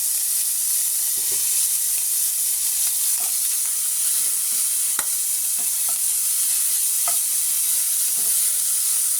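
Pork sautés in a pan while cooking a coconut-milk mixed vegetable dish, a loud continuous hissing sizzle with scattered small taps and scrapes of a spatula throughout.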